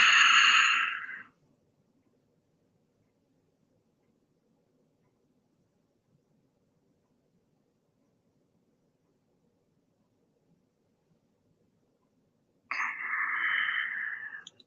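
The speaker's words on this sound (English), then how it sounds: "Breathe out and suck in." Breath sounds from a morning breathing exercise: a strong exhale at the start, then a long silence, then a sustained sucking-in breath near the end, close and alone with no talk.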